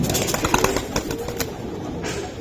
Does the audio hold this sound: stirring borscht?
no